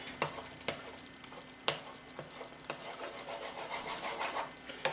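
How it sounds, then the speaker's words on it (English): A spoon stirs milk gravy in a pot on the stove, with steady scraping and rubbing across the bottom, occasional sharper knocks against the side and a soft simmering sizzle underneath. "Want to stir this fairly frequently though."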